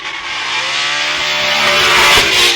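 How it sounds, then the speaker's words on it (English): A Mustang RTR climbing the hill at the Goodwood Festival of Speed, its engine loud and close, the roar building and revving as it passes, with no voices over it. "was the first time I got to see a Mustang RTR go up the hill without me driving"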